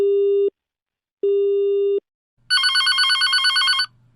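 Telephone busy tone from a switched-off phone: two long steady tone pulses separated by gaps, then a harmonically rich warbling electronic tone for over a second, clear and close with no talking.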